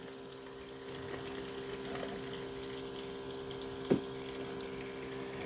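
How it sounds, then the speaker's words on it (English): A Ninja Thirsti soda maker dispenses a 6-ounce batch of sparkling water in a steady, close, even liquid stream with a faint pump hum beneath, broken by one brief sharp click near the end. "And the water coming out is sparkling."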